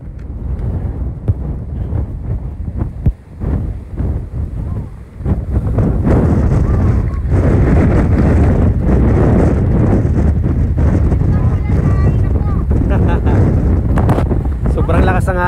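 Strong seaside wind buffets the microphone in heavy, continuous low roaring gusts, building louder and steadier after the first few seconds, with voices briefly heard in the early part.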